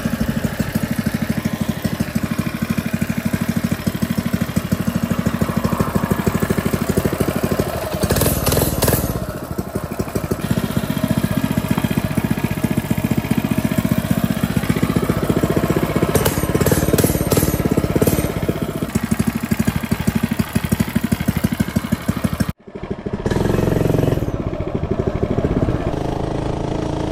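Small engine of an FRP mini bike running while being ridden, a loud steady buzzing drone throughout with brief revving changes and a short dropout near the end, close to the rider.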